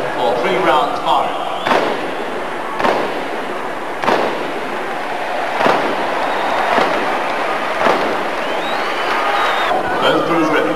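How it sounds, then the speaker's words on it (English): Field guns fire blank rounds inside the Earls Court arena during a 1993 Portsmouth field gun crew run: a series of sharp booms at roughly one-second intervals over a constant roar of crowd noise. "the guns are prepared for action for 3 rounds firing."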